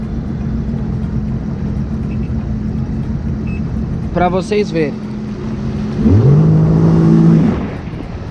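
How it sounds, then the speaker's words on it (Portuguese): A jet ski engine rises in pitch and load as it accelerates in sport mode, a rough droning roar that swells toward the end, preceded by steady idle and a brief spoken phrase. "Percebam que ele vai saltar pelo barulho do jet"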